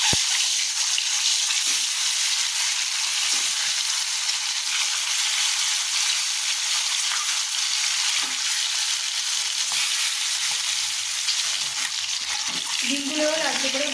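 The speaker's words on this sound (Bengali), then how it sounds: "এবারে এই সেদ্ধ করা ডিমগুলোয় আমি নুন আর হলুদ অল্প মাখিয়ে রেখেছি। এখানে 8 পিস ডিম আছে সেদ্ধ করা। ডিমগুলো ভেজে নেব।" Eight boiled eggs coated with salt and turmeric frying in hot oil, a loud, continuous hiss and crackle that holds steady throughout, with a few faint clinks of a utensil near the end.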